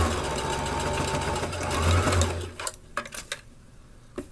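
A sewing machine stitches a replacement zipper onto a faced skirt, a steady close mechanical whir that stops partway, followed by a few soft clicks and handling taps.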